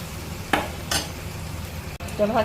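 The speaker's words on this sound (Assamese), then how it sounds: "ভাজি থাকিম এতিয়া।" Goat meat with ground and whole spices frying in a pot, a low steady sizzle broken by a few sharp scrapes of a stirring spoon against the pan, with no talking.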